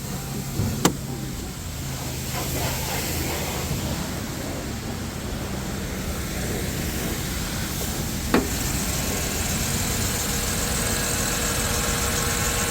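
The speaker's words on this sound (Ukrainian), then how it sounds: "Чиста робота двигуна." A car engine idles steadily with an even, low hum and broad noise, broken by a couple of faint clicks.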